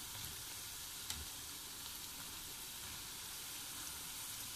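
Moong dal pakode frying in hot oil, a soft continuous sizzle with faint crackles and one small clink, quiet and steady without voices.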